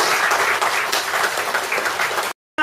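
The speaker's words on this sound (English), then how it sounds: "Give them a big clap." Audience applause for speakers at a politics-in-the-pub event, a dense, loud burst of many people clapping that cuts off abruptly near the end.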